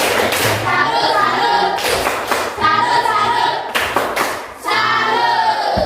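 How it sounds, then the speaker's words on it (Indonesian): Group applause in a classroom for a student team, steady dense clapping in two or three bursts with short pauses between them, loud and close. "kita berikan tepuk salut untuk kelompok 4. Tepuk salut."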